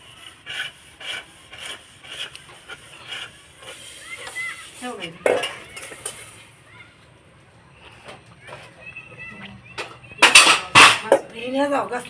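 Scrubbing and rubbing of pots and dishes with rasping strokes in an uneven rhythm, plus occasional clinks of metal utensils, close by.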